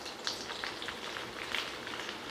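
Ginger fries in hot oil with a continuous crackling sizzle, fairly loud and close, with small pops scattered through it.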